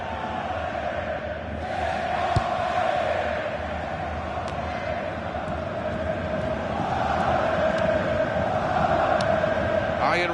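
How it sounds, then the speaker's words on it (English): A football video game stadium crowd jeers a visiting player, a dense steady roar of many voices that swells loudly toward the end, with a few sharp whistles poking through the din. "this crowd making their feelings known about one of the visiting players"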